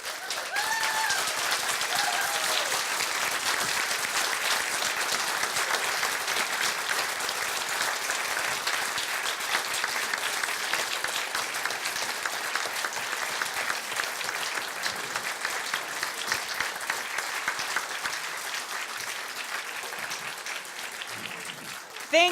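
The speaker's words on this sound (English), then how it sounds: "I would like to give a big round of applause." Sustained applause from the audience at a Maine CD2 House candidates forum, a dense, steady clatter of many hands that holds evenly for over twenty seconds with no letup.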